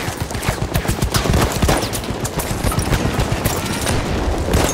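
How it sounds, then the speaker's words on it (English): Heavy machine gun fire in Battlefield 1 Domination mode, a loud continuous stream of rapid shots layered with other gunfire and battlefield noise. "Machine gun right there!"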